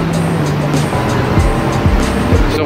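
Traffic building up at the entrance to Sydney Harbour Tunnel, with loud, close cars and buses streaming past in overlapping whooshes and engine drones.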